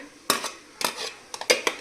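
A metal steamer pot handled while a plate of dal dhokla is set inside, giving a handful of sharp, close clanks and clinks spaced irregularly.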